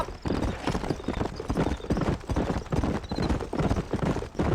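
A horse gallops in the video game Red Dead Redemption, hooves striking in a fast, close, continuous clip-clop rhythm that carries steadily throughout.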